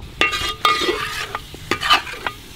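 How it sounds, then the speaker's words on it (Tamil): Chicken pieces being stirred in a pot on low heat for a 1 kg Kerala-style Thalassery biryani: several close scraping, clattering strokes in an irregular rhythm over a soft sizzle, with no talk. "அடுப்பை நல்ல சிம்மில் வச்சுட்டு நம்ம கிண்டி விட்டுக்கிட்டே இருக்கணும்"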